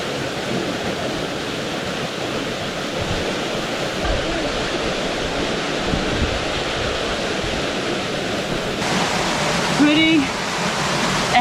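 Waterfall at Spring Creek swim hole in Kununurra, a constant loud rush of falling water close by, with a brief faint voice near the end.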